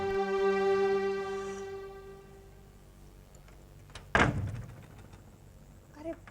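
A house door is opened in a domestic scene, with a sharp thump from the latch and door, followed by a brief rattle. A sustained musical tone fades out just before it, and the room is otherwise quiet.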